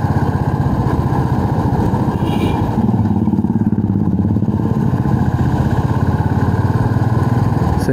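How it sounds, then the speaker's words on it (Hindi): Steady, loud motorcycle engine drone heard close up while riding on a road toward Lonavla, holding an even rumble throughout with no talk. "Sanjay I need to overtake you."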